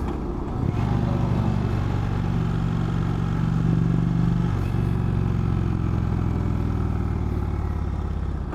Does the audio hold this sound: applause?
no